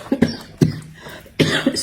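A woman coughs several times in quick, harsh bursts, close and loud, with a brief pause between the first coughs and a final pair.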